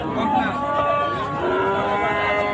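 A heifer moos loudly and close at a busy cattle market, one long sustained low call filling the whole stretch, with crowd murmur beneath.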